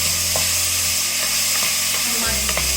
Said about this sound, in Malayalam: നമ്മൾ ഈ ക്രഷ് ചെയ്ത് വെച്ചിരിക്കുന്ന, അതായത് ചതച്ചെടുത്ത ചെറിയ ഉള്ളി ഇതിലേക്ക് ഇട്ട് കൊടുക്കാം.